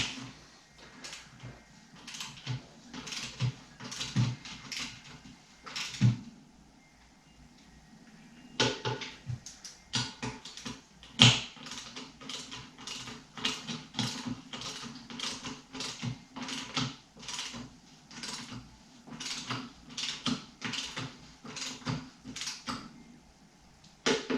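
A torque wrench tightening the lug nuts on 32.5-inch Highlifter Outlaw 2 tires mounted on KMC XD Machete beadlock wheels, working in a crisscross pattern with a long run of sharp, close, rhythmic ratcheting clicks and brief pauses between nuts.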